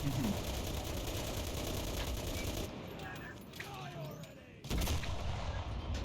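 Gunfire in the World War II shooter Enlisted: dense rapid shots and blasts run loud and close, break off into a quieter lull with scattered distant reports, then a heavy burst returns near the end.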